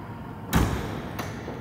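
A Kia Carnival's power tailgate closes at the push of a button: a soft thud followed a moment later by a brief latching click, both fairly faint and close.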